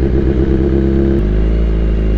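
A loud BMW S1000RR motorcycle exhaust rumbling steadily up close, its deep idle shifting pitch slightly partway through, with no talking.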